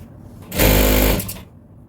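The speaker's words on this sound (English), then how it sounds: "I'm sewing with 1/2 of an inch" A sewing machine stitches the lining of a hair bonnet with a half-inch seam. It makes a loud, close, steady whir for about a second, then stops, with fainter mechanical clicks before and after.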